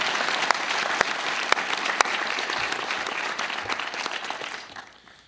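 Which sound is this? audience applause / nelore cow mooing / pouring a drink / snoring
audience applause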